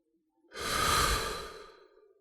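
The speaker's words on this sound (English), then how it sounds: "close your eyes, take a deep breath" A single deep, steady breath drawn in through the nose, close and clear, swelling quickly and then tapering off over about two seconds in an otherwise quiet room.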